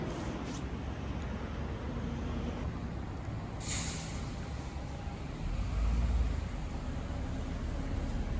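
A city bus on a street in Leeds passes with a sharp air-brake hiss partway through, amid a steady roar of traffic and a low engine surge toward the end.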